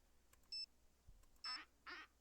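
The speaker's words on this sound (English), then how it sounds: "I love the duck ringtone." A phone plays a duck-quack ringtone, several short nasal quacks in a quick irregular sequence, fairly faint, with a brief electronic beep before them and no talking over them.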